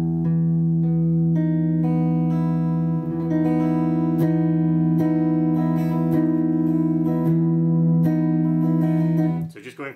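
Electric guitar holding an open-string E-form chord voiced with the sixth string open, sustained and ringing steadily at close range with a few restrikes before cutting off.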